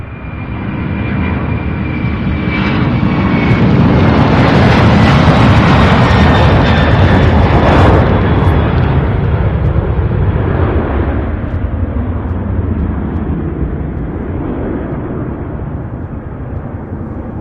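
An Allegiant jet airliner at Louisville International Airport gives a loud, steady engine roar with a faint whining tone, swelling slightly and then easing off as it passes, with no voices.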